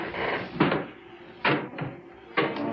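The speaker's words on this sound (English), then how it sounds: "Somebody's knocking again." Three separate knocks on a door in the 1950s horror film The Unearthly, spaced roughly a second apart, each a dull, fairly close thump with a short decay.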